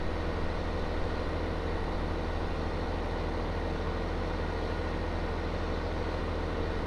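Tractor engine in Farming Simulator 19 running at a steady, continuous drone with a low rumbling hum and no breaks, heard alone.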